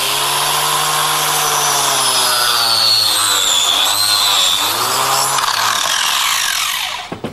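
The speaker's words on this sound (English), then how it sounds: "you can cut wood with it. But not only have we got a piece of wood here, but we've got it, if you can see here, Jules, with a couple of different types of screws and a nail." Kaindle angle blade on a power tool sawing through reclaimed wood embedded with screws and nails, a loud continuous whining cut with shifting pitch that holds steady for about seven seconds before stopping abruptly.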